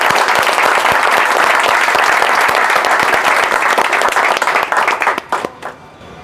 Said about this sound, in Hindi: तो अपने लिए जोर से ताली बजाओ।